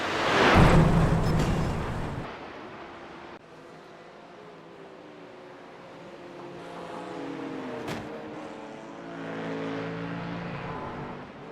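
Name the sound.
BMW car bumping into player's car in iRacing video game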